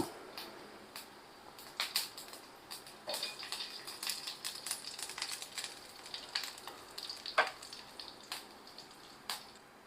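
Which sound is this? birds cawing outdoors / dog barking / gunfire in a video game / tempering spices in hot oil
tempering spices in hot oil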